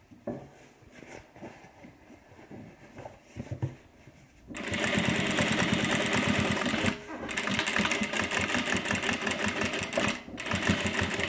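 A sewing machine runs a back stitch on a messenger bag, starting abruptly after quiet handling sounds and whirring loud and close in two long bursts separated by a brief pause.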